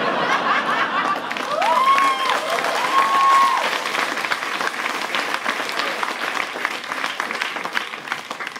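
Audience applause at a comedy show, a loud burst of clapping that swells and then gradually thins out, with a voice speaking over it early on.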